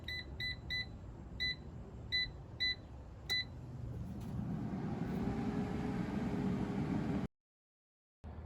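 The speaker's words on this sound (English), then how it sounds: "set the air fryer time for 5 minutes" A countertop air fryer set to 350 degrees runs with a steady fan whoosh and hum while cooking a grilled cheese sandwich, preceded by several short bright control-panel beeps as the timer is set; the hum then cuts off abruptly near the end.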